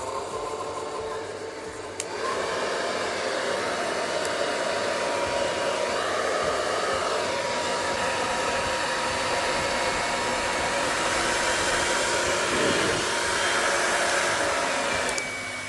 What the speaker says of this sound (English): Okay, so I'm going to turn on my hairdryer.